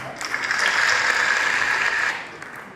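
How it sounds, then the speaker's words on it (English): Conference delegates clap together in a short burst that swells, holds steady and then drops off, with a tonal hum or feedback ringing under the applause. "Can we give him a round of applause?"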